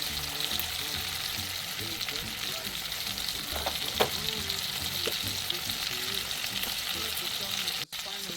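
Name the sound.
sous vide steak searing in a pan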